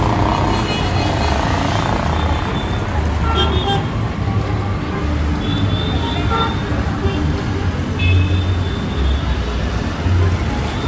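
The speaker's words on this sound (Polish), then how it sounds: "Żeby słychać już chyba te wszystkie klaksony." Busy city street in Ica, Peru, full of tuk-tuks and taxis: a constant loud roar of engines and traffic with repeated short horn toots scattered throughout.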